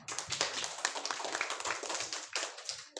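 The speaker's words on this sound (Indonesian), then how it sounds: "Beri tepukan yang meriah." An audience in a grade 8 classroom session claps lively applause, dense and steady throughout at close range, fading briefly near the end before a few more claps.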